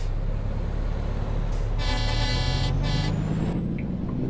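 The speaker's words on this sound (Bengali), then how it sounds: "এয়ার হর্ন যদি এটা সিটিতে বাজানো উচিত না" A Kenworth K200 truck's air horn in a truck simulator game blasts in two long, loud, close toots over a steady engine rumble, with a softer lead-in before them.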